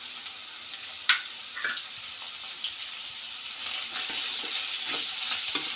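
Garlic frying in a pan for pindi kura, a soft continuous hiss with a couple of brief clicks and taps of a utensil, fairly quiet and close, no voices.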